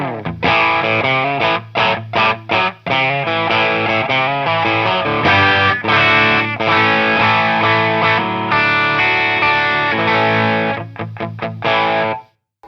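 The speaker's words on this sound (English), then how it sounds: "So let's now hear it through the overdrive pedal." Electric guitar played through an overdrive pedal into a Fender Deluxe Reverb amp gives a saturated, thick overdriven tone, with strummed chords and sustained notes ringing loudly and steadily for about twelve seconds before cutting off.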